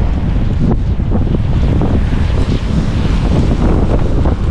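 Strong wind roars and buffets against the microphone in a constant, loud, rough rush with no voices.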